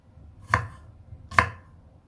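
Two sharp knife chops on a cutting board while mincing garlic, close and distinct, evenly spaced under a second apart against a quiet background.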